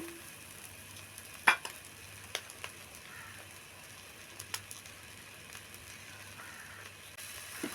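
Prawn fried rice sizzles faintly in a pan, with a low steady crackle and a few sharp clinks of the stirring spoon against the metal.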